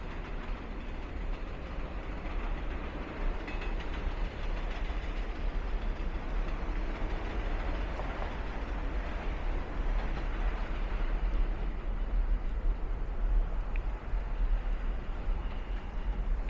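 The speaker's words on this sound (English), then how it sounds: "Hear a train out there. Looks like the F train's coming in." A low, continuous rumble of a New York subway train, the F train, rolling by at a distance in Bensonhurst, Brooklyn, steady and muffled throughout, with no voices.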